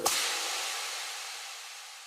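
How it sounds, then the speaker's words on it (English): A quick sharp whip crack sound effect with autopan and heavy reverb opens into a long, airy, hissing wash that slowly fades over a couple of seconds. "added lots of reverb and made it sound like this."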